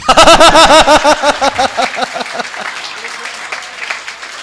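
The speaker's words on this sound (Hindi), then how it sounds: "जितने भी लोग यहां पर हैं और तालियां नहीं बजाएंगे उनको हम देखेंगे।" Audience applause at a Hindi comic poetry show (hasya kavi sammelan), loud at first, then thinning into scattered clapping with brief overlapping talk from the stage.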